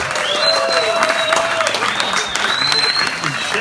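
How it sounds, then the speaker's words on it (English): Loud, sustained audience applause and cheering ring out for a performer at an outdoor bikes-and-burgers fundraiser, with whistles rising over dense clapping and voices from the crowd. "Give him a round of applause."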